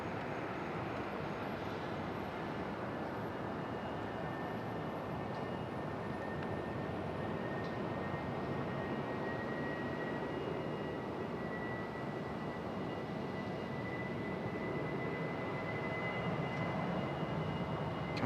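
A JetBlue airliner departing Raleigh-Durham, heavy and slow to rotate, gives off a steady, even jet roar with a faint high whine, continuous and moderately loud with no talk over it.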